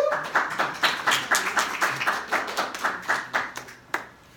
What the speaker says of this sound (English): greet with Brother Kepler with me with a great round of applause